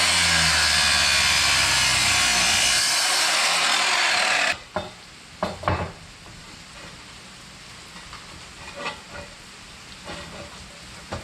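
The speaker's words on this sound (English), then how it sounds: "I gotta cut off this piece that's not complete" A loud, continuous hissing cut on metal stock during an RV over-cab repair on a Winnebago Itasca Sundowner C-Class runs for about four seconds, then stops abruptly, followed by scattered clanks and handling knocks.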